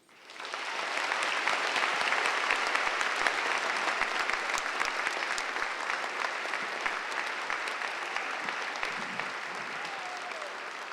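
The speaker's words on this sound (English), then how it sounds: "How about another round of applause for Ms. Ledbetter?" Graduation ceremony crowd for the class of 2013 at Utica Academy for International Studies bursts into applause that swells within a second, then holds as a long, dense roar of clapping, easing slightly toward the end.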